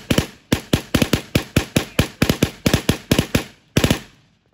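A rifle fired during a living history weapons demonstration, heard as a rapid string of about eighteen loud, sharp reports in quick succession that end with a short gap and one final shot, close by and with no voices.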